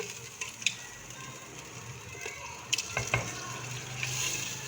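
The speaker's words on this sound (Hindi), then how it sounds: "ये इसी के अंदर थोड़ा थोड़ा करके डालते जाएंगे और भूनते जाएंगे चिकन को" Chicken for haleem fries in stock in a pan, giving a faint steady sizzle broken by scattered scraping stirs and a few sharper utensil clinks near the middle.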